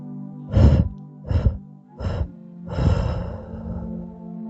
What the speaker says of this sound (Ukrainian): Можете видихнути чотири ніжні повільні видихи.